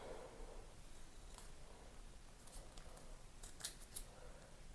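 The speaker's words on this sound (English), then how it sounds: "I'm going to cut down this because I want it thinner" Scissors snip through a piece of card for a handmade Christmas card with alcohol ink, a steady run of soft, quiet cutting strokes and rustles close to the mic.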